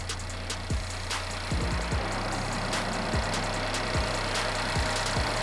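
The 2.5-litre engine of a 2013 Chevrolet Malibu runs steadily at a low, quiet level, a smooth hum broken by faint, evenly spaced ticks and clicks, with no voices.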